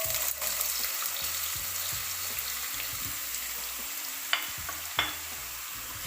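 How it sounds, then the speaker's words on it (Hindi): One cup of small diced potatoes frying in hot oil in a pan, a continuous soft sizzle with faint stirring and two brief clinks of a utensil near the end. "अब हम ऑयल गर्म हो चुका है। हम इसके अंदर 1 कप आलू को डालेंगे।"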